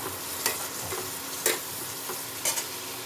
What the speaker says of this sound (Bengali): আর হলুদটা দিয়ে দেবো। দিয়ে ভালো মতো মিলিয়ে নেব।